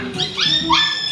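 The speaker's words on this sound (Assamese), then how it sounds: "কি মজা দিছে দেই কুকুৰৰ মাতটো" A dog's short, high yelping barks and whiny yips, close and fairly loud, in a quick uneven burst.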